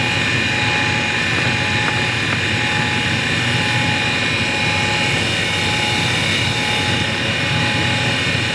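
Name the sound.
Hall valve grinder running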